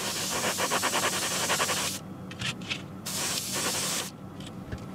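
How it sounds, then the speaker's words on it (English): An airbrush sprays gloss varnish onto a model wagon in short bursts, a close, loud hissing spray that pulses rapidly at first and then stops and restarts in two separate passes. "I will just give the outside of it a quick blast of gloss varnish, just one quick coat from the airbrush"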